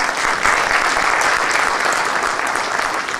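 At a sports awards ceremony an audience claps steadily and loudly as nominated athletes are announced, producing a dense, even wash of many hands with no break.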